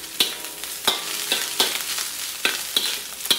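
Spicy chicken and pork fried rice with fried garlic stir-frying in a pan, a steady sizzle broken by sharp spatula scrapes and clinks against the metal every half second or so, close and fairly loud, no voices.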